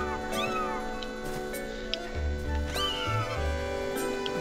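A cat in The Legend of Zelda: Skyward Sword gives several short meows over steady game music, each call rising and falling, fairly close and clear, with no talk.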